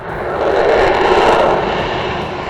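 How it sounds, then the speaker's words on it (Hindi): An X-59 supersonic jet plane on a test flight in California makes a loud, steady broadband roar that swells slightly and holds for a couple of seconds, with no voices. "अमेरिका के कैलिफोर्निया में इस X-59 सुपरसोनिक जेट प्लेन की टेस्ट फ्लाइट रखी गई थी।"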